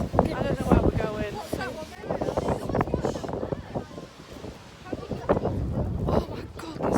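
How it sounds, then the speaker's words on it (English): Strong wind buffets the microphone on an exposed spot in the Peak District, a loud continuous rumble with gusts, while several people talk and exclaim over it throughout. "Oh my god, this wind."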